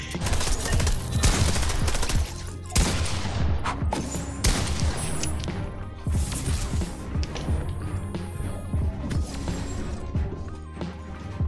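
Dense bursts of video game gunfire, rapid automatic shots and crashing impacts crowding together loudly and nearly continuously for several seconds.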